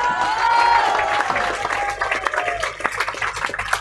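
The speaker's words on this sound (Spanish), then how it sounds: "quiero de acá mandar un aplauso enorme para Amado Vudú" A crowd at an outdoor march in Argentina applauds, the clapping dense and mixed with shouts, voices and whistle-like tones, then breaking into more scattered claps.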